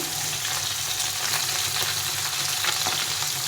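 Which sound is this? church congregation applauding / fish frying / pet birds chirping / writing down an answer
fish frying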